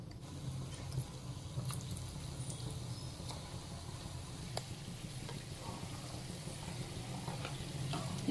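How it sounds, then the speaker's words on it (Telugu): Peanut pakoda frying in hot oil over a medium flame while being stirred; a low, steady sizzle with scattered faint crackles and scraping, fairly quiet and continuous throughout. "ఇలా మీడియం ఫ్లేమ్ మీద కలుపుకుంటూ కొంచెం మంచిగా గోల్డ్ కలర్ వచ్చేంత వరకు వేయించుకుందాము"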